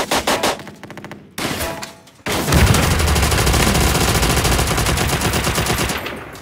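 Rapid, sustained MG 42 machine gun fire in Call of Duty: World at War, loud and near, breaking in after a couple of short bursts and pauses, then rattling continuously for several seconds with dense overlapping shots.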